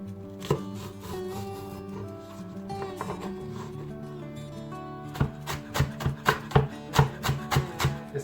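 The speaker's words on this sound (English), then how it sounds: "I'm going to chop them up." A knife chops spring onions on a board, scattered cuts at first and then a quick, steady run of sharp, close chops over light background music.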